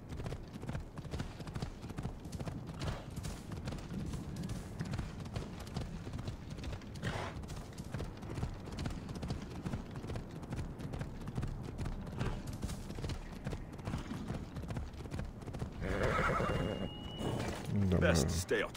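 Horse galloping in Assassin's Creed Odyssey, a steady clip-clop of hooves running continuously beneath game ambience and a voice talking, with a louder burst of movement near the end.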